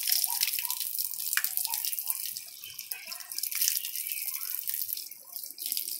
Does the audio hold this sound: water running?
yes